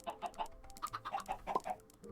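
Chickens in the Minecraft video game cluck in a steady string of short, soft calls, about a dozen over two seconds, with no talking.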